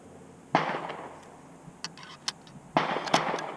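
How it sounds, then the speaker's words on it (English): Two sharp rifle shots from an M38 Swedish Mauser ring out at an outdoor range, each a loud crack with a short echoing tail, about two seconds apart, with no talking. "I'll go ahead and run the last 5 rounds through it."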